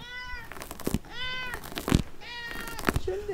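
A cat meows indoors in a home, three distinct drawn-out meows in fairly close succession, with a soft rustle or bump between them and no talk.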